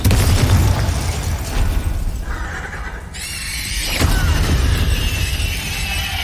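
Spell-casting combat in Hogwarts Legacy, with a Bombarda blast erupting in a sharp burst and shattering crack, followed by another magical impact and lingering shimmering effects.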